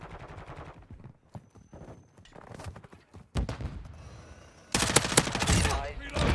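Gunfire in Call of Duty MW2: a few sharp shots, then a loud stretch of rapid, sustained automatic fire, with someone talking over the quieter opening.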